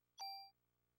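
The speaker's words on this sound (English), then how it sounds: "It's a bell to keep away bad spirits." A single charm bell chimes in the video game Parasite Eve, one bright ding that rings briefly and fades, clear against a quiet low background hum with no talk.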